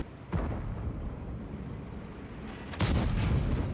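Two booming tank cannon shots in the World of Tanks video game, one near the start and a second, louder one near the end, each a sharp broadband blast fading into a low rumbling battlefield background.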